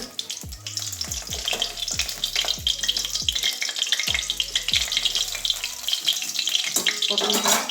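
Egg and pointed gourd frying in oil in a pan while a spatula lifts and turns them; a constant sizzle and occasional scraping run close and loud beneath rhythmic background music.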